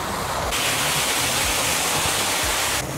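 Steady, loud rushing water from a fountain-like waterfall at Mapro Garden in Lonavala during rainy weather, a continuous broadband roar with no speech.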